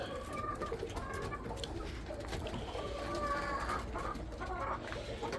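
Young racing pigeons in their loft coo and flutter continuously, a dense, close chorus of soft bird calls that fills the space with no talking.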